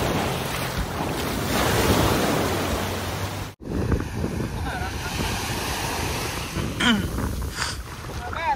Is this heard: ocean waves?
yes